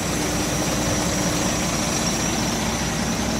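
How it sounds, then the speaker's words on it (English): A 2007 Volvo B12B Plaxton Panther coach with a 12-litre 420 bhp Volvo diesel idles steadily, a constant low rumble with an even hum and no pauses, heard close by. "420 brake horsepower Volvo engine that's driven through Volvo's 12-speed automated I-shift gearbox"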